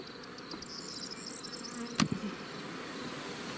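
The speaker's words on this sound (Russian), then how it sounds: "там пчелы битком" A low, steady hum of many bees buzzing around a packed hive at an apiary in Moldova, with a sharp knock partway through and no talking.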